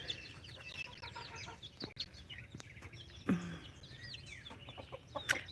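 Young chicks and chickens cluck and peep softly in a backyard flock, with scattered chirps and cheeps over a faint outdoor background and an occasional louder knock or rustle nearby.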